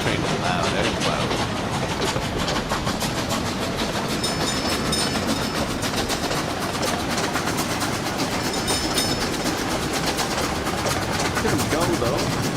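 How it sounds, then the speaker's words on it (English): A train rolls past loudly in the Workers and Resources game, giving a dense continuous rumble with rhythmic clickety-clack of wagons that holds steady throughout, and a voice talks over it. "This train is loud."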